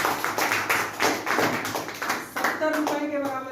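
A seminar audience claps in a loose rhythmic burst of repeated claps, moderately close, with a voice speaking at the end.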